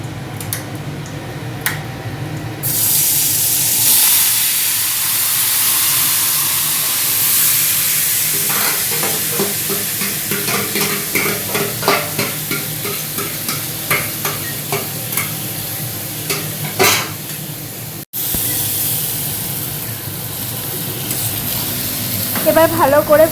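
Marinated mutton sizzles in a hot kadai while a spoon scrapes and stirs in a steady rhythm, the frying loud and close with voices now and then.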